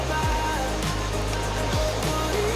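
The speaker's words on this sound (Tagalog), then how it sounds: "kumulo na yung tubig natin" Water boils for coffee outdoors, a steady, dense hiss and bubbling rush that stays constant throughout and is fairly close, with a low hum underneath and no talking.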